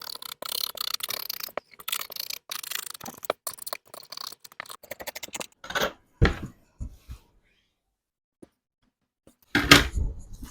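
Scissors cutting through fabric for a bubu caftan dress, a run of close, crisp snips and rustles that thin out into a few sharper cuts with quiet gaps, ending in one louder burst.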